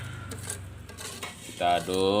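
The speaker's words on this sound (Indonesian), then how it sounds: "Kita aduk sampai merata ya, dengan air secukupnya" Tofu batter being stirred with salt and water in a bowl, scraping and clinking utensil sounds at moderate volume, with a voice talking toward the end.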